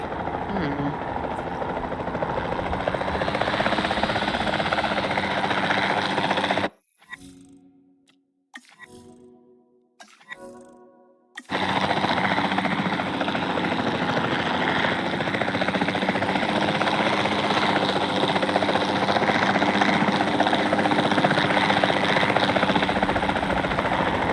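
A capture team helicopter roars with a steady, loud rotor drone in a dinosaur park game, cutting out briefly midway, then resuming at full strength. A voice is faintly audible beneath it.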